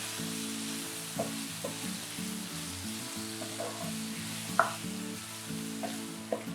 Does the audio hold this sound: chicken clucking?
no